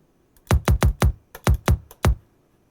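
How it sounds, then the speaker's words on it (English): Processed electronic kick drum layered with hi-hats, about eight short punchy thuds with crisp attacks in an uneven pattern, dry and alone with silence between hits. "It's a kick I made a while ago and tends to work in a sort of atonal way."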